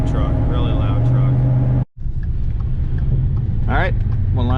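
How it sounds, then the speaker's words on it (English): Loud, rumbling engine drone from inside a Ford F-150 pickup truck, with gear shifts audible and a brief cut-out partway through, with no talking. "A loud truck, really loud truck."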